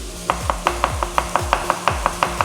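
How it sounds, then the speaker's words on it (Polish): Garlic sliced with a knife on a cutting board, about thirteen crisp, evenly spaced chops in a steady quick rhythm, close and alone. "Czosnek siekam w plasterki"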